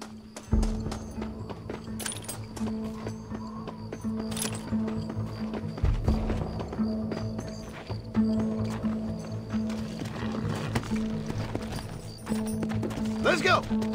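Horse hooves clip-clop steadily through a Red Dead Redemption ride, rhythmic and close, with game music and characters talking over the hoofbeats.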